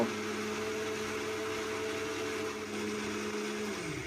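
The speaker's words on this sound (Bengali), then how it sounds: "আর এখন ঢাকনা বন্ধ করে 1 থেকে 2 বার মিক্সচারটা অন অফ করে ঘুরিয়ে নেব" Mixer grinder whirring at high speed as a kulfi mixture is pulsed, a loud steady motor drone that winds down as the machine is switched off near the end.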